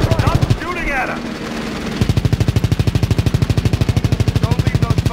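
Rapid machine-gun fire from the WWII shooter Call of Duty: WWII during the Battle of the Bulge in the Ardennes, loud and close, a brief burst, a pause, then a long sustained rattle, with a voice shouting over it.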